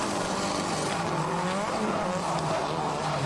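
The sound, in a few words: drift car engine running rough, possible injector issues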